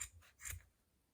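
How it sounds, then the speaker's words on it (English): Two quick, faint snips of scissors close by cutting yarn loops for a pom-pom, the second slightly louder, followed by quiet. "And you're cutting your loops on both sides."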